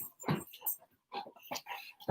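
A dog in a room giving a few short whiny, yelping sounds with quiet pauses between them, close but faint.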